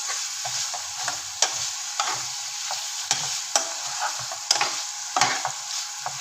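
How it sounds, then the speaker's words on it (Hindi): Chicken coated in tikka masala stirred in a hot pan for shawarma, a steady sizzle with sharp spatula scrapes and clacks at irregular intervals, close and clear. "और इसे अच्छी तरह हिला लेंगे ताकि टिक्का भी मसाला अच्छी तरह से चिकन में लग जाए"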